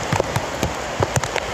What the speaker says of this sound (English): from nowhere it starts to rain like hell